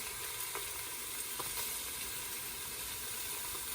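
Heavily salted meat sears in a pressure cooker on its sauté setting, giving a steady, fairly quiet hiss and crackle that runs unbroken throughout.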